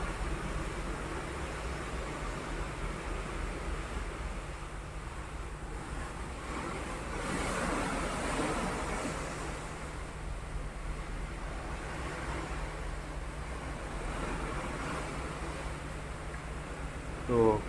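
Waves and rushing water around a large passenger ship (KM Lawit) being pushed by a strong sea current, a steady wash with wind noise and a low engine hum, heard continuously at moderate level.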